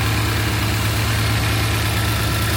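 A BMW E46 M3 engine with a slight misfire idles close by, a loud, continuous low rumble with a faintly uneven pulse and no speech.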